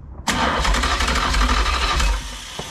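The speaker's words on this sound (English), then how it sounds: "Let's just start her crank at least before we go any further." A Mopar 440 engine in a motorhome cranks briefly, then catches and runs with a loud, rough, steady roar before easing off near the end.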